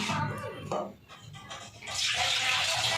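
Rice being washed by hand in water in a home kitchen: steady sloshing and splashing, softer in the middle and growing louder and fuller toward the end, with a faint voice in the background.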